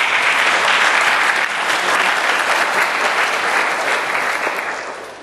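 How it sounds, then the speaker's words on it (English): A large audience applauds loudly and steadily at a youth development program presentation in Okinawa, the dense clapping holding strong for several seconds before starting to fade toward the end. "Big round of applause"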